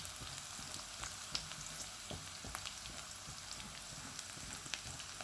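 Garlic sautéing in oil in a pan for chicken adobo, a faint, steady sizzle broken by scattered soft pops and crackles, heard alone.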